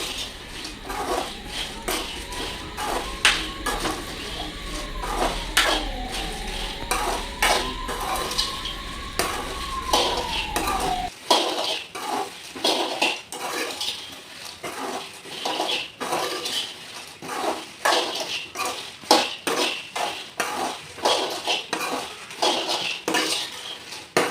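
Repeated scraping and clinking of a spoon against a metal pan as wild jackfruit seeds roast, irregular stirring strokes, close and fairly quiet.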